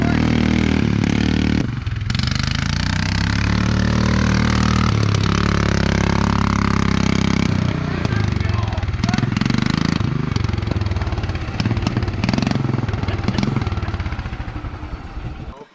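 A refurbished golf cart's engine runs with no muffler on its first drive, a loud, steady, rattling drone that continues throughout, with people's voices faintly under it.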